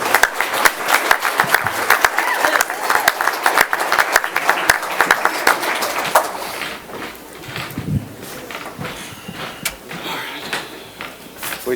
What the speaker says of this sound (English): round of applause for Ms. Amy Lau, please